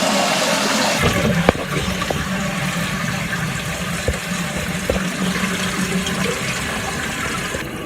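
A concealed-cistern toilet flushes after its button is pressed, a loud, close, continuous rush of water that runs steadily for several seconds with no one talking.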